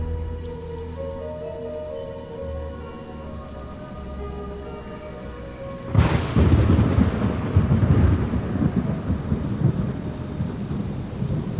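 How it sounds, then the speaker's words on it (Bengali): A sharp thunderclap bursts in halfway through, followed by steady heavy rain pattering on surfaces, after a quieter stretch of low sustained tones. "বাইরে আর একটা বজ্রপাতের শব্দ হলো"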